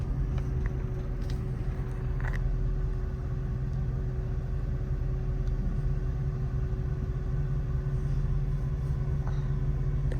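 A car moves slowly in reverse, its engine giving a steady low rumble with no clear revving, close and continuous throughout.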